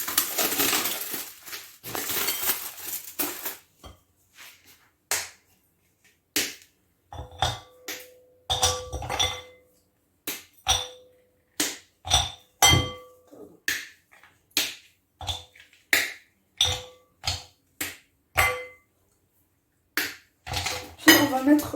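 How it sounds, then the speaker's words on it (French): A knife chops dark chocolate on a board in a kitchen, giving a long series of sharp, separate clicking cuts at a steady rhythm, close and fairly quiet, after a noisier opening few seconds. "Alors on va commencer par découper le chocolat noir."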